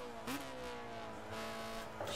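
Race car engine in Gran Turismo 6, at full throttle during a Red Bull 5G 2014 event. The engine drones steadily near and loud, with rising harmonic sweeps as it revs through gear changes.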